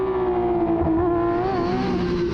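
Porsche Carrera Cup race cars launching from a standing start on a dry track at the Red Bull Ring, a loud, steady engine roar with rising revs that carries through the whole short stretch, with no talk over it.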